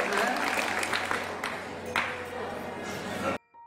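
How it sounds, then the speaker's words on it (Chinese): An audience applauds for Yuan Lixin, the clapping dense and moderately loud, then cutting off abruptly near the end, with a voice faintly present underneath. "为袁立新鼓掌。"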